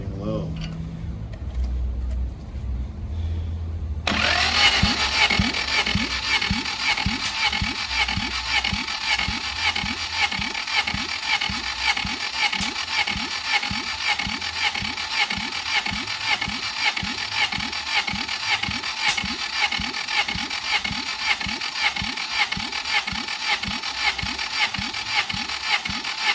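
A starter motor cranks an F23 engine in a G23 swap without it catching, a loud, close, steady rapid chugging rhythm that runs for over twenty seconds after a quieter opening.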